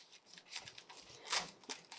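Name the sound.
sharp knife cutting the core off a cabbage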